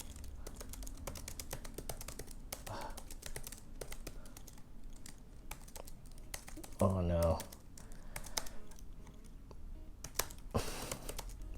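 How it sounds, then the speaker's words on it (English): Rapid typing on a computer keyboard, a steady patter of close key clicks running throughout, with a brief spoken exclamation over it. "Typing so bad today."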